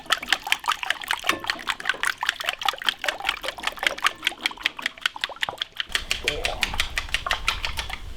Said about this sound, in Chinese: 一边打一边加水。